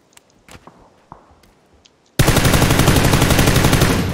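Shooting video game gunfire: after a couple of seconds of faint footsteps and small clicks, a loud sustained burst of rapid automatic fire begins and continues to the end.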